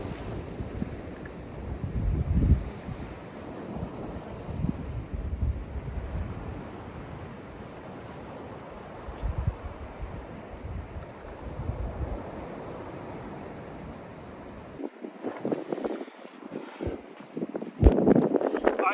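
Strong wind buffets the microphone on a small fishing boat at sea, a steady rumbling roar with gusts and water sloshing, growing harsher and more turbulent near the end; no speech.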